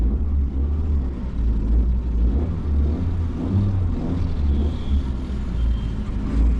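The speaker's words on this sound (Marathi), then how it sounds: "मित्रांनो गाडी चालू केली" A car engine idles just after being started, a steady low rumble with a slight pulsing throb that stays close and constant throughout, with no talking.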